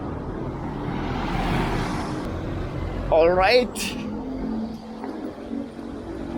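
Road traffic in Bohol, Philippines, with cars passing as a steady moderate rumble and one louder vehicle surging by near the middle, while someone talks over it.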